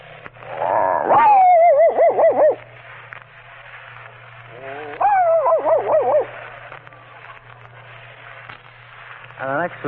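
A voice imitates a dog, giving two bursts of yelping, whimpering barks with a third short one at the end, heard over a steady radio-like hum.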